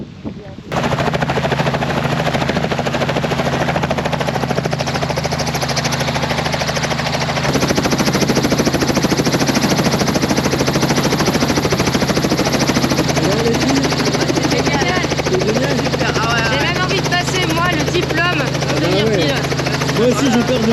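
A helicopter's rotor and engine give a loud, continuous thumping roar close by, and people talk over it.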